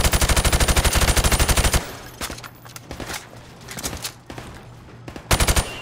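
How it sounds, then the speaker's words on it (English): Rapid automatic gunfire from a Call of Duty 4: Modern Warfare training range, shots fired through thin plywood at targets, a loud sustained burst followed by scattered single shots and thuds, then a final short burst. "I want you to shoot the targets through the wood"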